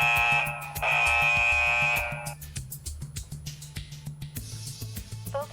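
A driver fatigue monitoring camera in a vehicle sounds a loud, shrill electronic alarm tone for about two seconds, followed by a quieter stretch of intermittent clicks and chirps.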